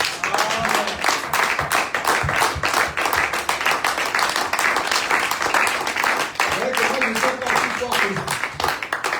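A congregation at a Sunday church service applauds to acclaim Jesus Christ, with steady, dense clapping that runs throughout and voices mixed in underneath.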